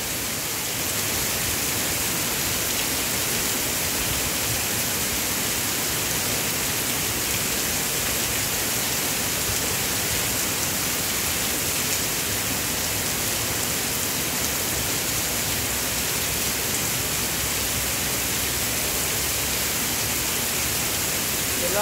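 Heavy rain pours in a dense, constant roar of drops that stays even and unbroken for over twenty seconds, with no voices.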